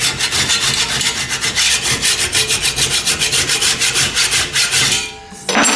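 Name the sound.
metal file cleaning up the edge of a scraper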